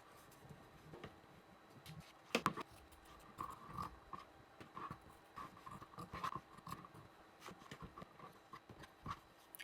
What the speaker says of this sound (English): Next, let's cut the inner pocket.